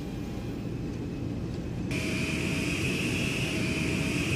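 An airliner slows on a runway with a steady, loud broadband engine roar that jumps in intensity partway through as a high whine rises, continuous and close, with no voices.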